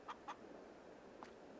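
Chickens in the farming video game Farming Simulator 22 give a few quick, clear clucks in two rapid bursts and then one more, fairly faint over a steady background hum.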